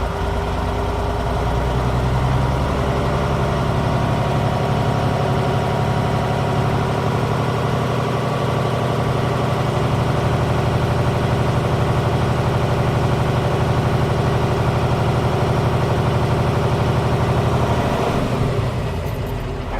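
A heavy diesel engine idles steadily and loudly for a long stretch, a constant low rumble with a faint change near the end.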